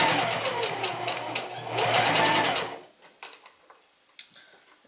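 A domestic sewing machine stitching down a fly zipper on women's trousers runs in a fast, rattling burst for about three seconds, then stops, leaving a few light ticks and clicks.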